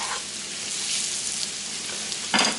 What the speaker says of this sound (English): I'll probably cook them for a few more minutes. Get all these onions reduced down.